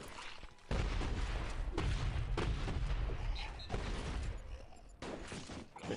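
Gunfire in the mobile zombie shooter Zombie Blast Crew, with turret fire during a wave: dense, continuous bursts of shots and booms that run almost without pause and stay loud and close.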